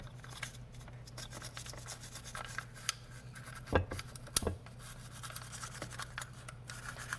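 Quiet, rapid scratching and scrubbing up close as a small toothbrush cleans a gun, with a couple of sharper knocks partway through over a steady low hum.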